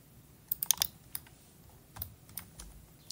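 A few scattered computer keyboard key clicks, including a press of the enter key, as sparse sharp taps close by in a quiet room.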